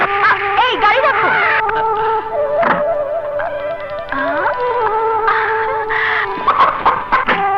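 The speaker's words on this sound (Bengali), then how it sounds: "এবার মোরগ লড়াই দেখলাম, খুব ভালো লাগছে।" Roosters fighting at a village cockfight, with clucking and crowing calls rising and falling amid crowd noise and people talking throughout.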